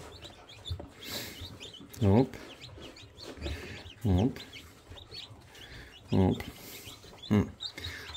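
Newly hatched chicks taken from an incubator cheep in repeated high, thin peeps. A man makes short exclamations and speaks quietly between them.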